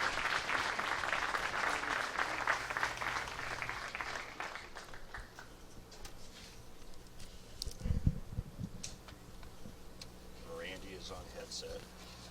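Overflow crowd applauding at a professional bowling tournament in suburban Detroit, a dense burst of clapping that fades over several seconds, followed by a few thuds and a voice talking.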